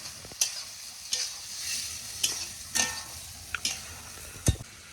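A utensil scrapes and stirs fried vegetables in a hot pan, with irregular clinks and scrapes over a steady sizzle, close by and with no talking.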